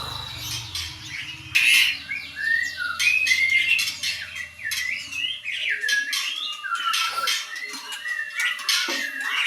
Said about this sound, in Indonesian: Burung giras banget ya.